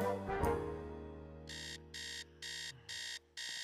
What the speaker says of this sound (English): didn't you hear the alarm?